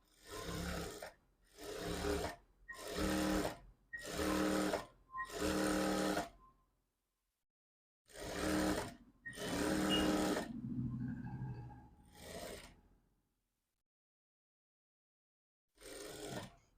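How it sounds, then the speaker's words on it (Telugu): A sewing machine stitches blouse fabric in quick repeated runs, several short bursts at first and then a longer run, with pauses and near-silence between them, heard up close and alone. "ఇది నాకు అలవాటు కాబట్టి నేను ఫాస్ట్గా కుట్టేస్తున్నా."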